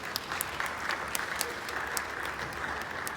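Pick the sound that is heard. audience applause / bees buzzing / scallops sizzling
audience applause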